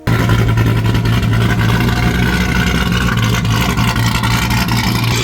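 A supercharged GMC Sierra truck engine runs loud and close, holding a steady, rough idle rumble with a constant deep hum and no pauses throughout.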